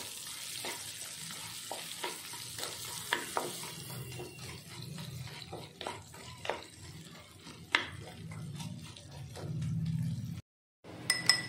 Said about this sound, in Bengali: দিয়ে মিডিয়াম ফ্লেমে পাঁচ থেকে দশ মিনিট প্যাচটা ভালো করে আমি একটু ভেজে নেব